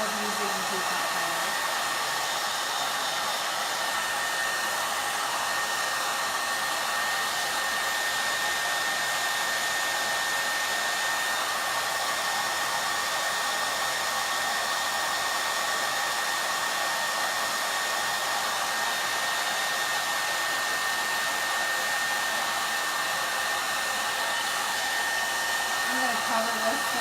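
Steady, loud whoosh of a heat tool held over fresh peacock-colored ink on a chalk-paint craft surface, running continuously and alone with no talk.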